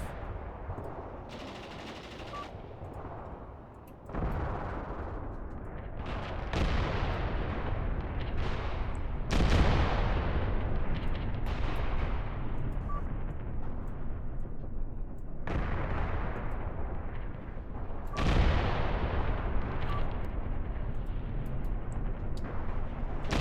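Sustained artillery barrage from the war game Graviteam Tactics: heavy booming blasts and rolling gunfire overlap continuously for over twenty seconds, with several louder impacts standing out against a dense, rumbling battle din.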